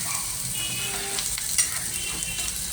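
Chopped onion, ginger and green chilli frying in a pan, a steady bright hiss of sizzling oil with faint stirring scrapes, close and continuous with no voices.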